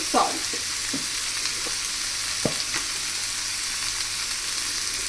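Thinly sliced potatoes with turmeric fry in hot oil, giving a steady, even sizzle with a few soft scrapes of stirring near the start.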